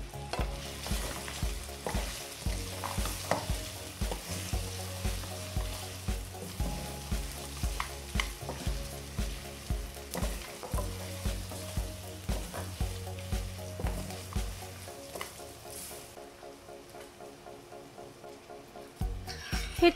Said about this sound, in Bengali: হাফ চা চামচ গরম মশলা পাউডার দিয়ে লো ফ্লেমে মিনিট দিয়ে কষে নিতে হবে।